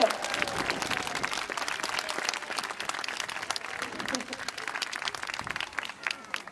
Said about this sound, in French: Vous les applaudir.